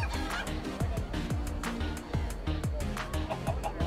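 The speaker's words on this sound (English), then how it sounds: "After I watch one more chicken get owned." Chickens cluck in a rapid, repeated series of clucks and squawks inside the video game Minecraft: Story Mode, loud and continuous throughout with no talking.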